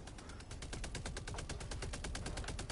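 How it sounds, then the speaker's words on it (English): A Gatling gun in Helldivers 2 fires a steady, fast, evenly spaced stream of shots that carries on without a break, heard at a moderate distance and fairly faint. "That Gatling gun's getting real close."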